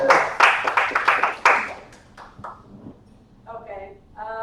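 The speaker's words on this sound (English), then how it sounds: "Round of applause to Tiago for organizing this." An audience applauds at a Go programming meetup talk on building an API gateway, a burst of clapping that fades out within a few seconds, followed by some faint tonal sounds.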